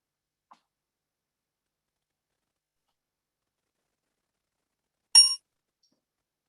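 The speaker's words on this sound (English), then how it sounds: "I heard a bell" A single bright bell ding rings out once after a long stretch of silence during voting at a church diocese convention, short and clear with a quick fade.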